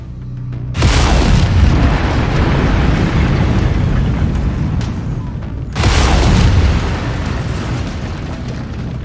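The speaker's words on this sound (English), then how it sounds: "Lasers are mapped to weapon group 2. Fire them when ready." Two loud, heavy bursts from a mech's lasers being fired in MechWarrior 5, each a booming blast that starts suddenly and rumbles on for several seconds over a steady low background roar.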